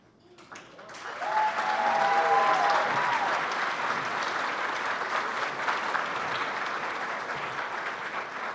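Banquet audience applauding the Isle of Wight County telecommunicators, clapping that swells quickly after a quiet start and holds as a dense, sustained roar, with a few voices mixed in.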